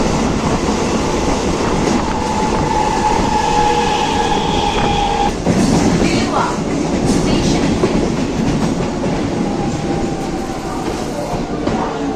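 A Howrah to Barddhaman local train rumbles steadily along the rails with a constant, loud roar, wheel clatter and occasional squeals and clicks of the carriage, heard from inside the coach.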